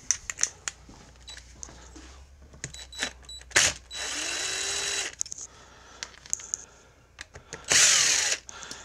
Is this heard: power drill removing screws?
yes